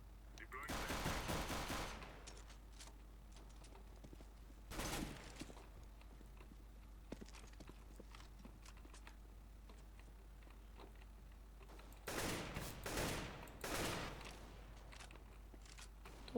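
Counter-Strike: Global Offensive gameplay with bursts of rapid gunfire in several clusters separated by quieter stretches, loud against low background game noise.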